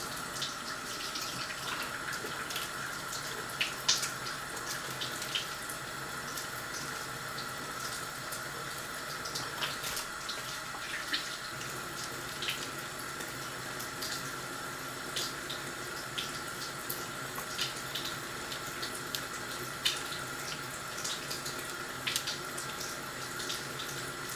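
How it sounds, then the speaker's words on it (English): Tap water runs steadily into a bathroom sink while a face is rinsed, a continuous close splashing stream with faint irregular drips and clicks, and no talking. "First rinse, I like wash my face like 10 times"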